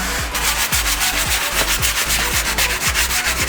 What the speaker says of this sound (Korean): 좀 더 저희가 매끈한 완벽한 마감을 위해서 저희는 샌딩 작업을 열심히 하고 있습니다.